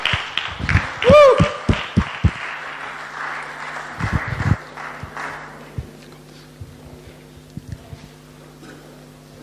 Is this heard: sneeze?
no